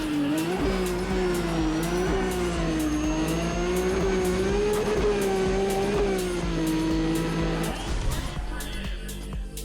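A BMW M3 race car in Need for Speed ProStreet drones loudly and steadily, its engine note rising and falling through gear changes before dropping off near the end, with faint regular ticks throughout.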